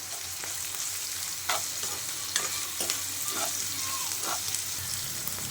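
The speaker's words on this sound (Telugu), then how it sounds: "ఆనియన్స్, మిర్చి జల్దీ ఫ్రై అవుతాయి." Onions and green chillies frying in a pan with salt, a steady loud sizzle broken by the repeated scrape and clack of a spoon stirring.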